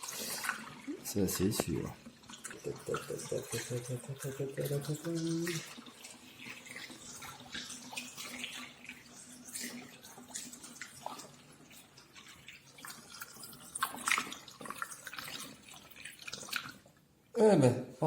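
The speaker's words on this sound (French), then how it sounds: "Il va falloir remplir ma bouteille" Water runs from a tap into a bottle for homemade dish soap in short gushes early on, followed by quieter trickling and handling noises, with a voice speaking briefly near the end.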